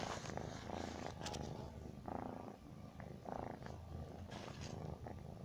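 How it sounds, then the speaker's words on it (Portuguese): A cat purrs steadily while rubbing against a phone held close, a soft rhythmic rumble pulsing with each breath, near and intimate, with faint handling rustles and no talk. "Ah, Miau se esfregando no celular, velho."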